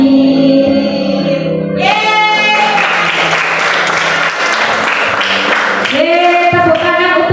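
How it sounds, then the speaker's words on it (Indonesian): A fourth-grade class breaks into loud, dense clapping for several seconds, with a sung or spoken voice at the start and end. "Tepuk tangan untuk kelas 4."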